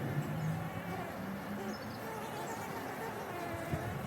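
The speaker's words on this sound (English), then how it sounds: "I wanted to show you guys the bees" Steady buzzing of bees swarming nearby on a farm garden, a dense drone with individual insects drifting past.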